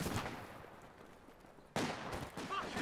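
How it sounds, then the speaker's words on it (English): A few Lee-Enfield rifle shots crack out in a World War II strategy game battle between British and German forces, the reports dense and mid-distance with a sharper burst near the end, over a low battle din. "A few Lienfeld rifle shots."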